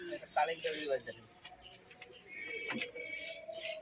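Pigeons in a hobbyist's pigeon loft in Bongaon, scattered coos and chirps from several birds near and around, with people talking intermittently over them.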